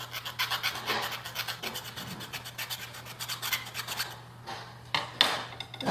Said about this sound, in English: And again, when I file it